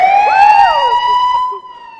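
A wailing ambulance siren sound effect, loud and close, its rising and falling electronic tone sweeping through about two seconds before cutting out.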